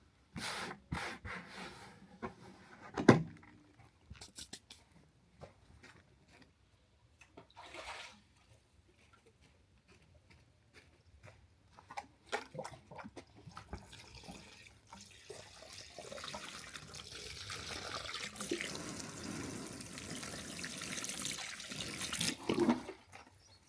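Water runs from a tap, splashing and rising in intensity toward the end, with scattered rubbing and clinking sounds nearby.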